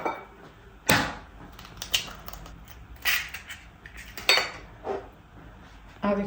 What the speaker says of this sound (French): Je vais commencer par fouetter les œufs avec le sucre